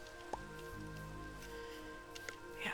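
Rain falls in the ATM 11 modded game world, a faint, soft, continuous patter of drops with a few louder taps and no talking.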